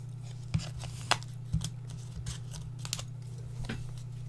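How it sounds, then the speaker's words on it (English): Stampin' Up paper being die cut for a Sweet Treats gift box: a few faint, sharp clicks and snips spaced irregularly over a steady low machine hum, with no voices. "I will die cut that out as well"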